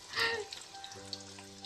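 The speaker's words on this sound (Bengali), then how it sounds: "সেই যে টুনা কাবাব গুলো ভাজা হচ্ছে" Tuna kebabs frying in a pan produce a soft, continuous sizzle with a brief louder burst at the start, quiet and alone with no talking.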